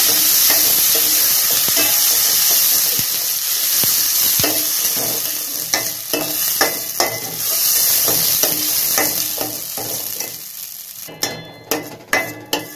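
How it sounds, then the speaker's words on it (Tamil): Masala is stirred and fried in a pan for a tamarind kuzhambu with elephant foot yam, giving a continuous close sizzle with rhythmic scraping strokes, then a run of sharp spoon knocks at the end. "மசாலா நல்லா கிண்டுங்க"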